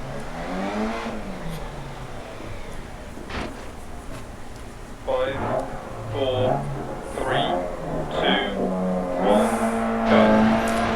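Rally car engine revving and accelerating at a race start in the DIRT Rally racing game, set in Argolis, Greece, with rising engine harmonics under steady talk, growing louder in the second half.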